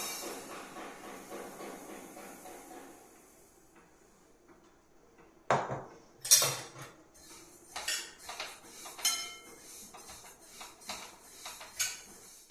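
Roasted sesame seeds being scraped and shifted in a large iron wok: after a quiet start, a run of clattery metallic scrapes and clinks, close and moderately loud, in irregular bursts.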